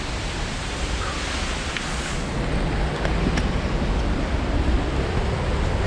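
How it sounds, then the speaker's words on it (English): Waterfall roaring beside a precipitous cliff trail near Echo Lake and Mt Lapworth by Squamish, a dense steady broadband rush of falling water that grows slightly louder partway through, with no one talking. "Precipitous cliff trail next to a waterfall."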